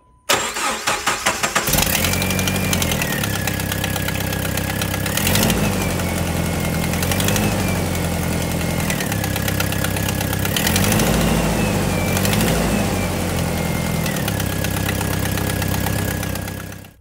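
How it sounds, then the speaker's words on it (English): A car engine that is rarely driven cranks briefly, catches and settles into a steady, strong idle, running loud and close without any talk over it. "let's fire it up so we can hear how the engine sounds on this thing."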